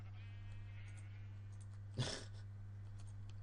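A single short sheep bleat from the game Minecraft sounds once, brief and moderately loud, over a steady low background hum.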